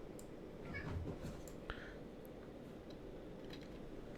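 A house cat meows briefly in the background of a home office, a short faint cry over steady room hum and low noise.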